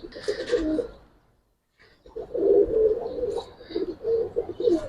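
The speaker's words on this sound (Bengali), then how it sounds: "দুটোটাই লাড্ডু মাথার কবুতর ভাই সম্পূর্ণ লাড্ডু মাথার কবুতর" Laddu-head pigeons cooing up close in repeated throaty bursts, with a brief quiet gap between phrases.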